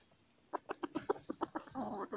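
A third-generation hybrid chicken of wild jungle-fowl blood clucks in a quick series of short, close calls, about ten in a row, ending in a slightly busier burst.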